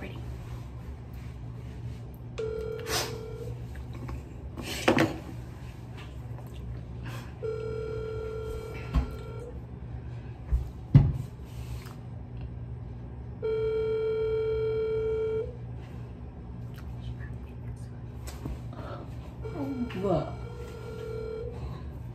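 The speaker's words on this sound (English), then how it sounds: "So I'm gonna call my mom." A phone call is placed, with dialing tones followed by repeated ringback tones in separate bursts and a short steady tone near the end. Clicks and handling noises fall between the tones, and no one talks over them.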